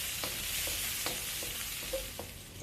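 Coriander roots and scallions stir-frying in a little oil for salt-and-chili shrimp, a quiet continuous sizzle punctuated by light, irregular spatula scrapes and clicks, with no one talking.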